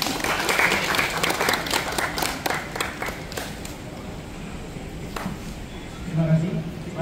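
An audience claps briefly at an event on an executive train trip aboard the Argo Semeru; the applause is strongest at first, then fades into quieter room noise and a voice near the end.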